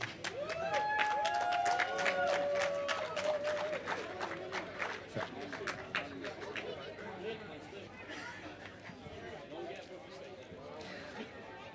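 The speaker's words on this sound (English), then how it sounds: "So give a round of applause" A crowd at a karting awards ceremony applauds a third-place racing team with sustained clapping and chatter. A voice speaks over the applause at first, and the clapping slowly thins out.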